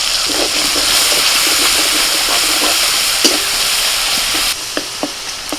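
Tomato fried with salt, turmeric and cumin powder sizzles loudly in a pan, a steady close frying hiss broken by soft bubbling pops and a few light spoon taps.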